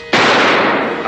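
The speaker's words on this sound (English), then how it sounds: "A gunshot." A single loud gunshot blast, sharp onset and a broad, sustained burst that decays slowly over about a second, heard close and alone.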